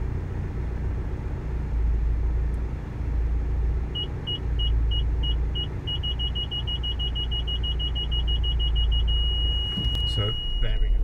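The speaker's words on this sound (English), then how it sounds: "the car is equipped with rear parking sensors, so I'm just going to reverse back just to show you those working." Rear parking sensors on a 2006 Honda CR-V 2.2 i-CTDi diesel Sport estate beep while it reverses, a steady idle rumble beneath a clear electronic tone that pulses at a spaced rhythm, then quickens into a rapid series and finally a continuous tone.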